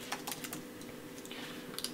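Quick, light clicks of someone typing on a computer keyboard, a steady run of close, soft keystrokes with no talking.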